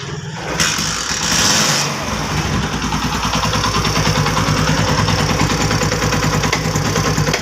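Rebuilt Chinese motorcycle engine with loose tappets idling: a brief hiss and rumble gives way to a loud, fast, even chug that holds steady for several seconds, with no talk.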